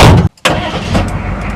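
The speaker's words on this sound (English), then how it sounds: "so let's crank it up real quick" A CUCV M1028 military truck's diesel engine cranks and catches, loud and close, with a brief cutout before it settles into a rough running rumble.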